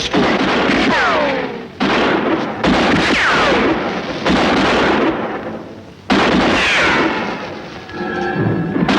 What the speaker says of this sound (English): What are they shooting at us for?